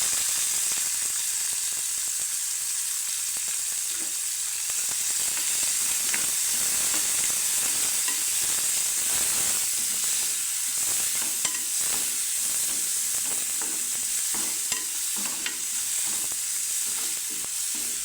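Onion pieces fry steadily in hot oil with crackling mustard seeds and cumin for a Kannada-style capsicum potato gravy, a dense continuous sizzle with occasional stirring scrapes, close and loud throughout without talk.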